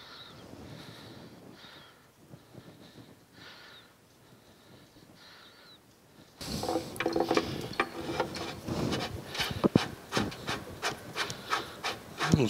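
Bolts are tightened on the upright columns of a metal planer during restoration: a quiet stretch of faint rubbing and clicks, then louder, close ratcheting and metallic scraping with irregular bursts.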